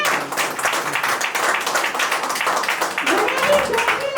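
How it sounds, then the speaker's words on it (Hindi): A crowd claps steadily throughout, with voices and cheering mixed into the applause. "तालियों की गड़गड़ाहट रुकनी नहीं चाहिए।"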